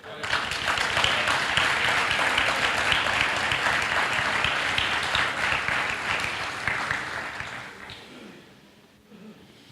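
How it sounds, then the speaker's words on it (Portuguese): A church congregation breaks into loud, sustained applause that keeps going for about eight seconds before fading away near the end. "faz um barulho de aplauso ao Senhor"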